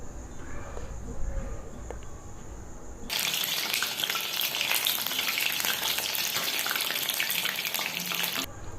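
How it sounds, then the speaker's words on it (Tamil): Mushrooms fry in hot oil. A quiet kitchen background suddenly gives way to a loud, dense, crackling sizzle that holds steady for several seconds before dropping away. "காளான் வேக வேக அதனுடைய எண்ணெயினுடைய சலசலப்பினுடைய சத்தம் வந்து குறைந்து கொண்டு இருக்குது"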